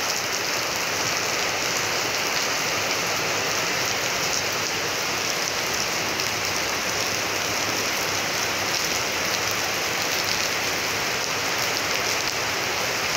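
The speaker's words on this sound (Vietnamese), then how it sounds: "mưa ướt đầy tràn một cái hồ luôn" Heavy rain pours steadily over a mountain home, a dense, continuous hiss of downpour drumming on surfaces, loud and unbroken throughout with no voices.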